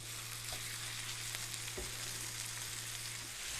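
Minced keema hits hot oil in a pan with browned ginger and garlic, giving a steady, close sizzling hiss throughout, with a few soft stirring knocks and no voices.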